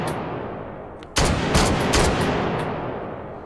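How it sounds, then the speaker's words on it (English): A semi-automatic 12-gauge shotgun fires in the virtual reality game Hot Dogs Horseshoes & Hand Grenades, a sharp sudden blast followed by a few quick follow-up shots and a ringing decay, loud and close. "semi-automatic 12-gauge shotgun"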